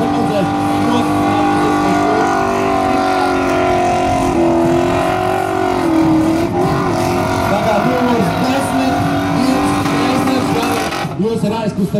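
A drift car at round 2 of the Latvian Drift Cup in Jelgava roars steadily at high revs for the whole stretch, with tyre squeal mixed in and an announcer talking over it.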